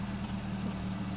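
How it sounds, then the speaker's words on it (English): A new car's engine idles with a steady low rumble, close and continuous, with no voices over it. "But the engine is running."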